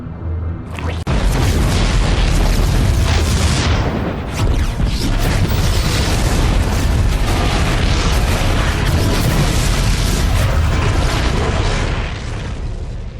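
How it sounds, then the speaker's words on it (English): Heavy, continuous booming explosions aboard a ship in StarCraft II: Heart of the Swarm rumble and crackle for several seconds, loud and dense, in a synthetic game-like soundscape. "The explosions have stopped."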